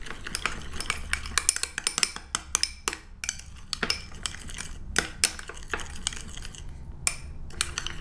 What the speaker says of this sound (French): tout ce que je viens faire maintenant, on va venir mélanger pour obtenir un liquide vraiment homogène